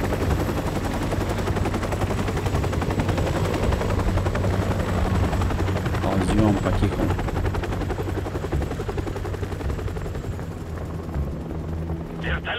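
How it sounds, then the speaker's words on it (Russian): A helicopter from the video game Call of Duty: Modern Warfare Remastered drones steadily throughout, mixed with continuous gunfire and battle noise, while a voice speaks quietly over it. "Вертолет улетает."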